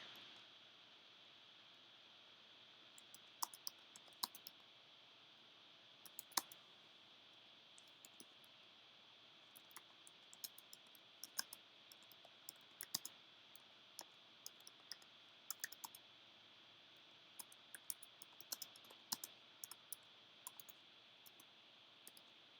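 Light clicking keystrokes on a computer keyboard while coding in Scratch, irregular quick taps in scattered bursts, faint and close over a steady hiss of background noise, no talking.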